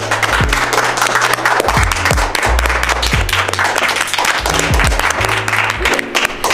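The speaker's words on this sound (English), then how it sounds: "Clap it out." An audience at a school news presentation honoring staff members gives loud, sustained applause, a thick wash of many hands clapping at once that fills the room, with scattered voices and cheers mixed in.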